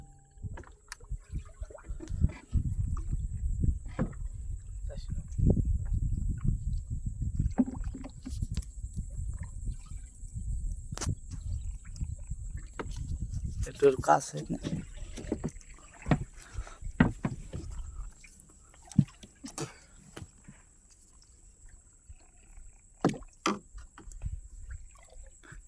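A small rowing boat moves through water with a run of close, irregular sloshes, splashes and wooden knocks from paddling. The sounds thin out into sparse drips and taps later, and a voice speaks briefly.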